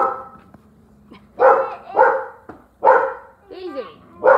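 A pet dog barks several times up close in loud, separate bursts, ending in a yip or whimper, with no clear talking over the barks.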